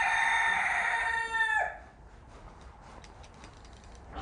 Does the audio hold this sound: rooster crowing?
yes